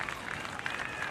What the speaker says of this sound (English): The cheers from the crowd.